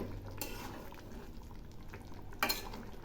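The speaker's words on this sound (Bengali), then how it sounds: "একটু নেড়ে দিচ্ছি" Spice paste being stirred into cauliflower korma in a pan, with soft scraping strokes over a low simmer and a brief louder clink of the spoon near the end.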